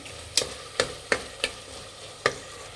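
Tomatoes with turmeric fry in a pan for rice bath, a soft steady sizzle broken by five or six sharp spatula scrapes and taps against the pan at irregular intervals, close and alone.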